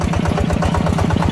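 Yanmar 160 tractor engine labouring while plowing hard soil, a loud, steady low chugging with regular rapid pulses throughout, close by with no voices.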